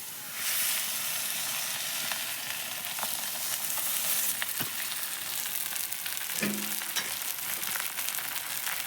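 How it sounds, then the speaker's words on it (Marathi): A spinach thalipeeth is laid on an oiled griddle and fries with a loud, steady sizzle and hiss that starts abruptly and keeps on, with a few soft scrapes and taps. "आता तयार थालीपीठ तव्यावर टाकूया।"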